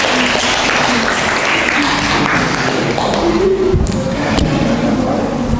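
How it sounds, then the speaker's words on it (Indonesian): Students in a classroom applaud their classmates. The loud, close clapping holds steady throughout, with a few sharp taps and thumps mixed in and some faint voices underneath. "Tepuk tangan dong buat teman-teman kalian."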